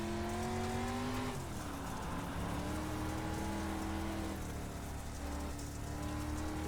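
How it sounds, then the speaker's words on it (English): A street stock dirt car driven in the iRacing sim, its engine note holding steady, dipping briefly when the revs drop, then climbing again over a continuous hiss. "these dirt cars are about finesse, especially this street stock here"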